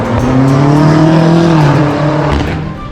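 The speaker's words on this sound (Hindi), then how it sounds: "यार लोगों को ना गाड़ी बहुत तेज चलाने का शौक है यार।" A car engine roars as it speeds down a city street in Kyiv, a loud sustained drone rising and falling in pitch as it passes close by, with no voices over it.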